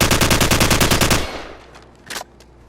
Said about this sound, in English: Blind fire from the hip.